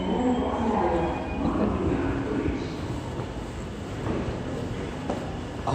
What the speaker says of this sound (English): I hear a train.